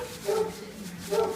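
Puppies in a puppy store give two short yipping barks about a second apart, close and fairly soft, over faint room noise.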